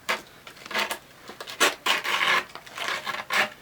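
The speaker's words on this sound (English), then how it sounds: "Just going to take that razor blade, cut it right on the corner" A razor blade scrapes and cuts through skateboard grip tape at the corner of the board, making several close, rough rasping strokes in short bursts.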